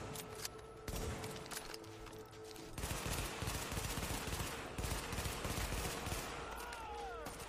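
Sustained gunfire in The Division video game, with repeated bursts of shots and rapid automatic fire blending into a dense, continuous barrage throughout.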